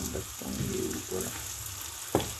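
Rice toasts in a pot with a close, steady crackling sizzle, broken by a few soft stirring scrapes and one sharper knock near the end.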